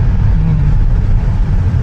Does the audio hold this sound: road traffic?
yes